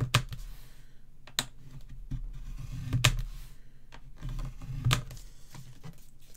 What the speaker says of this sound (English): I'm putting this in and I'm just scoring at 1/2 inch